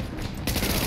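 A gun turret in the video game The Division opens fire, switching abruptly from quiet background to a loud, dense, rapid burst that continues steadily to the end.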